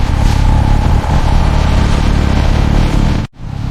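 A Honda Rebel 500 motorcycle pulls away with a loud, steady engine drone and a smooth rising pitch, close and continuous, before a sudden brief drop at the end.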